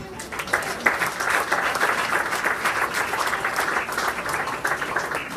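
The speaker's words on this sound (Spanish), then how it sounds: "Dale un aplauso que ya están viniendo." A church congregation bursts into sustained applause during a worship service, with dense clapping from many people throughout that swells briefly and holds steady.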